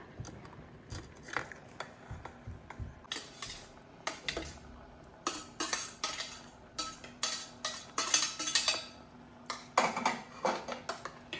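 A utensil clinks and scrapes against a pan as boiled vegetables are stirred into creamy white sauce pasta, repeated close metallic taps in an uneven rhythm with no voices.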